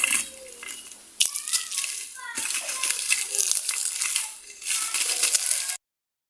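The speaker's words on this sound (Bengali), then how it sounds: "লঙ্কাগুলোকে হাতে গুঁড়ো করে নেব, একদম এরকম করে এগুলোকে গুঁড়ো করে নেব।" Dried chillies crushed by hand for a home-cooked dish, giving close, crisp crackling and crinkling bursts with brief pauses, while children's voices chatter and play in the background.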